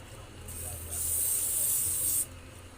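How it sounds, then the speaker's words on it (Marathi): A can of hair spray hisses onto styled, pinned hair in one steady, close burst of just over a second, then cuts off, with a quiet room hum around it. "यू पिन स्प्रे मारून घ्यायचं."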